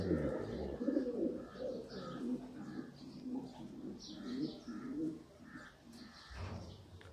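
Sialkoti pigeons cooing in a loft, a string of soft, low, throaty coos repeating unevenly at close range over faint background noise.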